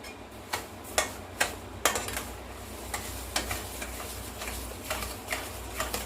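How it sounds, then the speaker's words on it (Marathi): A spoon stirs mango pulp with sugar in a pot, giving a run of sharp scraping ticks at an irregular rhythm over a faint steady background, close and moderately quiet, with no talking. "आता आंब्याचा पल्प आपण छान हलवून घ्यायचं आणि त्यामध्ये पाऊण वाटी साखर टाकायची."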